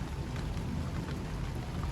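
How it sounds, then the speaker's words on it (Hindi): Rain comes down steadily at a brick kiln, a dense, even hiss with low rumbling under it, like a storm going on close by. "बारिश आ गई है, मौसम ख़राब था।"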